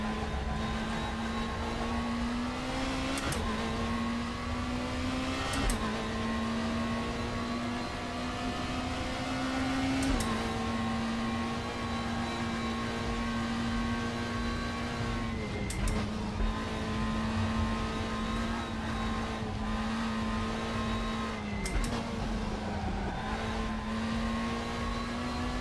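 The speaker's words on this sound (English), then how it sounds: "But the Volvo's got the 5-cylinder, so that also sounds great as well." A Volvo five-cylinder super tourer race car engine in the RaceRoom racing game drones steadily and loud, its pitch holding near-constant with brief rises and dips at gear changes and occasional sharp transient clicks, with no talking.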